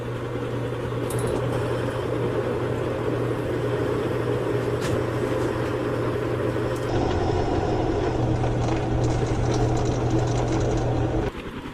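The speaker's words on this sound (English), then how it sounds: "Start drilling holes." A power drill boring pilot holes for hex head screws in a blade-making build, a steady loud motor whine held for about eleven seconds, shifting pitch partway through and stopping abruptly at the end.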